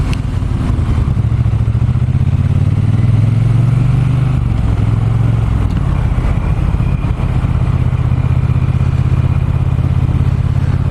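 Triumph T120 Bonneville motorcycle engine under way on the road, a steady, loud low-pitched drone with a rumbling undertone and shifting pitch as the rider rolls on and off, heard alone without talk throughout.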